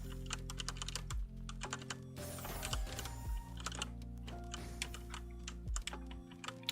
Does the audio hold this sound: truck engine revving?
no